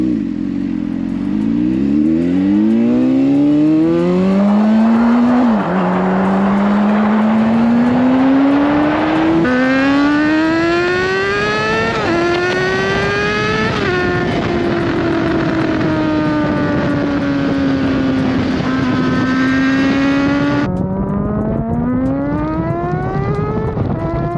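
A Honda CBR600RR sport motorcycle accelerates hard up a road, its engine note climbing steeply through several gears with brief dips at each shift, loud and close throughout with no talking.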